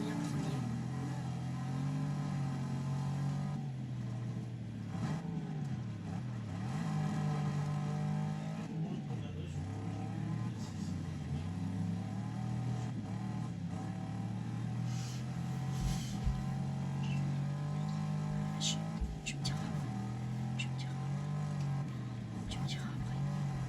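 Race cars in a car race in Morocco, engines revving and droning continuously with rising and falling pitch as they accelerate through turns, a voice talking over the engine noise.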